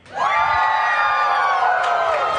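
A large crowd at a Bassmaster Elite bass fishing tournament weigh-in at Lake Hartwell erupts in loud, sustained cheering and whooping that starts abruptly and holds steady for the whole stretch.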